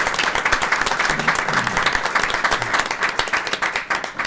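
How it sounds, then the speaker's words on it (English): Audience applause at a school committee meeting, a steady wash of many hands clapping at once, held evenly for several seconds with no voices over it. "So can we get one round of applause for these guys?"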